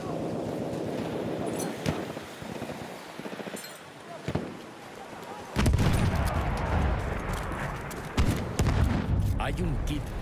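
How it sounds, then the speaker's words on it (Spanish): Enemy machine gun fire in a video game, rattling in bursts that swell into a dense, loud barrage partway through, with a voice in the mix. "¡Ametralladora enemiga!"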